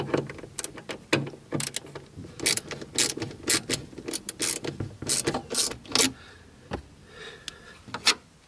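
Torx T20 screws being undone on the rear deck of a Mercedes-Benz C-Class W204, giving a series of close, sharp ratcheting clicks and small mechanical rattles in irregular bursts, with no talking.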